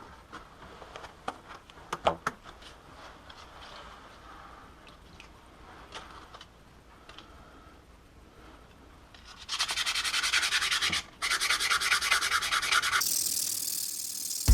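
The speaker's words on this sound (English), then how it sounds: "So here I go with the 220 grit wet or dry sandpaper." A Honda motorcycle part is hand sanded with 220 grit wet or dry sandpaper, giving a steady, loud rubbing hiss that starts partway through, pauses briefly and then resumes. Scattered soft clicks and handling noises come before it.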